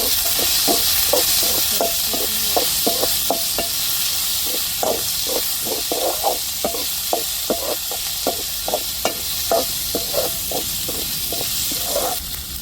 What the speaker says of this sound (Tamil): இப்போ தக்காளி சேர்த்துக்கிடுவோம் ஒரு மிளகாய் ரெண்டாக கீறி வச்சுருக்கேன் அதை சேர்த்துக்கிடுவோம்